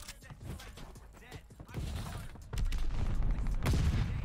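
Video game gunfire crackles in quick bursts during a team shooter match, building louder toward the end amid low rumbling.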